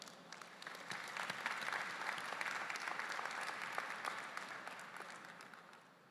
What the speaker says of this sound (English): So let's also give them a round of applause.